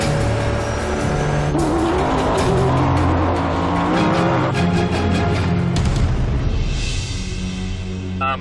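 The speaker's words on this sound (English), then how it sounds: "Before long, it passes 7 other vehicles at speeds up to 100 miles an hour." A Ford F-150 EcoBoost truck races at high speed, up to about 100 mph, passing other vehicles: a loud, continuous engine roar with rising and falling revs and tire noise, no talking.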